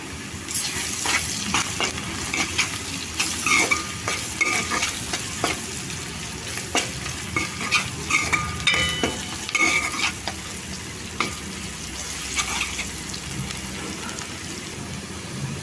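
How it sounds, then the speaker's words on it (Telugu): Freshly pounded ginger garlic paste fries with browned onion pieces for egg curry, a continuous close sizzle broken by repeated scraping stirs of the spoon in the pan. "1 స్పూన్ వేసుకొని పచ్చివాసన పోయే వరకు ఫ్రై చేసుకోవాలి."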